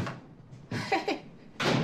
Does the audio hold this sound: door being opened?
yes